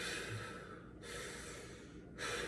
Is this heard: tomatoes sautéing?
no